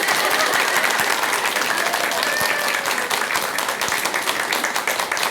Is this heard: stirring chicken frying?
no